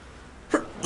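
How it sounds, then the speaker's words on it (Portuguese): A sneeze from a character in Metal Gear Solid V: The Phantom Pain, a short burst near the end of an otherwise quiet moment, with a smaller breathy onset just before it. "Ai, cara, que saco esses negócios desses espirros"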